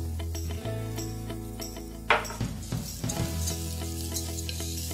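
Green rice frying and being stirred in a pan, a steady loud sizzle with scraping stir strokes and a clink partway through, alone without talk.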